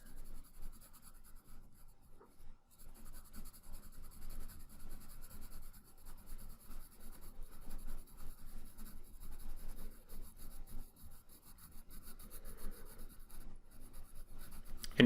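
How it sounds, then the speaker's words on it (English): A pencil lightly sketches midtone shading on paper, giving a faint, continuous scratchy rubbing in steady back-and-forth strokes, close and quiet, with no talking. "So I'm going to lightly sketch in that midtone there."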